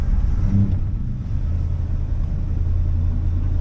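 An old pickup truck with four-wheel drive, unmoved for 15 years, backs up with its engine running, a loud, steady low rumble with a slight surge early on and no voices.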